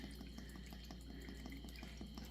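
Vinegar with its mother is poured into a jar of fire cider ingredients, a faint steady trickle with small drips and gurgles under a low hum, no talk.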